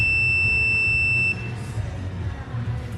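A multimeter continuity beep, tested on a C5 Corvette chassis, sounds as a steady high-pitched tone at the start, then stops, leaving quiet low background rumble.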